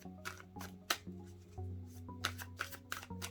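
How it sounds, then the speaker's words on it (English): Tarot cards being shuffled overhand in a steady series of soft riffling slaps, close up, with faint background music underneath. "do a few overhands here"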